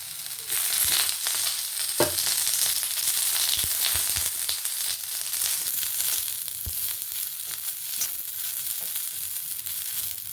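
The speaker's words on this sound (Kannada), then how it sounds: "ಮೆಣಸಿನ್ಕಾಯಿ, ಈರುಳ್ಳಿ, ಬೆಳ್ಳುಳ್ಳಿ ಇವೆಲ್ಲ ಹಾಕಿ ಸ್ವಲ್ಪ ಹೊತ್ತು ಫ್ರೈ ಮಾಡ್ಕೋಬೇಕು." Green chilies, onion and garlic fry in oil in a pan, a loud, steady hiss of sizzling throughout with occasional stirring scrapes and taps.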